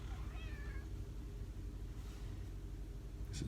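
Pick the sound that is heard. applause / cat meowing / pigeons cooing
cat meowing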